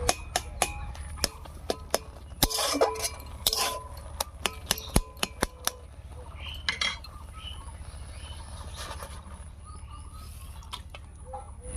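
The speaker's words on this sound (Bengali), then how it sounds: "আমি এই কাঠিটা দিয়ে একটু গলা গলা মতো করে দিচ্ছি" Boiled taro greens mashed with a wooden stick in a pan, scattered sharp taps and clinks against the pan over a low steady hum, close and fairly quiet, no voices.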